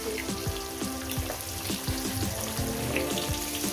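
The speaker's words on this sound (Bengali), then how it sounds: "এগুলো ভেজে নিয়ে দিচ্ছি" Bhola fish frying in a pan of hot oil: a steady, close sizzle with popping crackles throughout and no talking.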